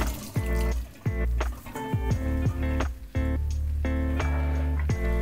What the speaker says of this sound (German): Das restliche Wasser könnt ihr abschütten.